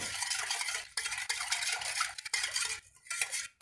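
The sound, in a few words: whisking semolina and flour cake batter in a bowl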